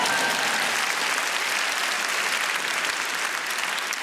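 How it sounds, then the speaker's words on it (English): A large audience at a televised awards ceremony applauds, a dense, even roar of clapping holding steady for the full four seconds with no voices over it. "Give yourselves a round of applause."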